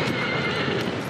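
A horse neighs loudly in the video game Shadow of the Colossus, a close, sustained whinny filling the moment without any talk over it.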